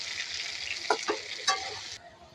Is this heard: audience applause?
no